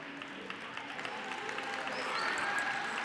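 A crowd at a youth event applauds an award presentation, a soft, distant wash of many hands clapping that swells slightly louder toward the end, with faint cheering mixed in.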